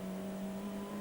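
A race car driven by Ian Flux approaches the Dingledale chicane with oil on its tyres, its engine holding a steady, fairly faint drone for a moment with no voices.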